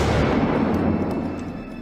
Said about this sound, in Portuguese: Eu só escutei um disparo